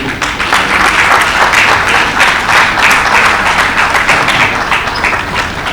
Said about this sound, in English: I believe we will make the applause a bit louder.